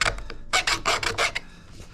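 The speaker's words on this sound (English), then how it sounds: "what I'm going to use is just a file, and I'm going to clean up those edges" A metal file rasps across drilled wood edges in a series of short, quick strokes, about seven scrapes in a row, close and crisp.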